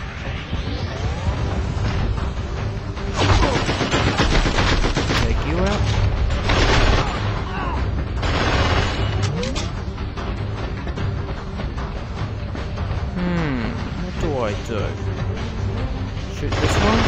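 Loud, sustained gunfire and explosive booms from a boss fight in the video game SpyHunter Nowhere To Run, bursts of shots repeating over a dense bed of game music and mechanical effects.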